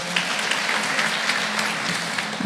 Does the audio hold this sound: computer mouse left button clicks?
no